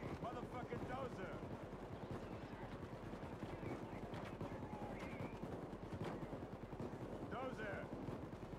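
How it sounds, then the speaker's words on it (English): Rapid, sustained automatic gunfire in the Payday 2 video game during a prison breakout heist, dense bursts of shots continuing throughout at a steady loud level, with faint voices buried in the mix. "All I hear is shooting."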